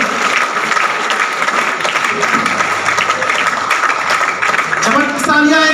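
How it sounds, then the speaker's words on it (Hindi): Loud, close applause from an audience welcoming guests onto a stage, brisk dense clapping with crowd noise, and voices rising over it near the end. "आप लोगों की जबरदस्त तालियों के बीच में प्लीज वेलकम सर"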